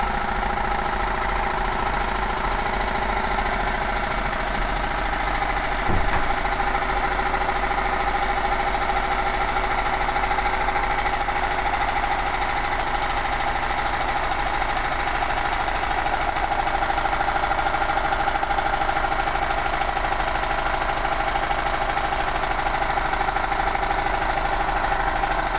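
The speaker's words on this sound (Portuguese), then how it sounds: "E agora faremos o motor funcionar com um gerador, um motorzinho de ejetar a fita cassete de um aparelho de videocassete" A homemade Stirling engine turns a small VCR cassette-eject motor used as a generator, making a faint, continuous mechanical whir and hum with a steady drone and one brief click partway through, without voices.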